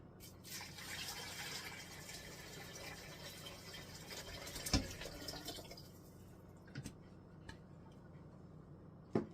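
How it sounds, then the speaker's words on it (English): Water trickles and splashes into a cooking pot for several seconds, then tapers off, followed by a few faint clinks and knocks in a quiet room. "Get some water over here and put some water in there."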